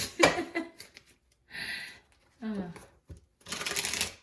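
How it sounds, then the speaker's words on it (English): A deck of tarot cards is shuffled by hand in a few short, papery riffling bursts, close and fairly loud, alternating with someone speaking between them. "I am going to shuffle them 2 to 3 times on camera."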